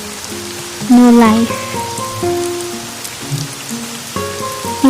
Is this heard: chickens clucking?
no